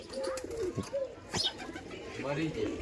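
Pigeons coo in soft repeated calls nearby, layered over continuous talk and background bustle.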